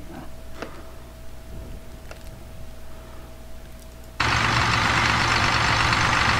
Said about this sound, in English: show this tractor off.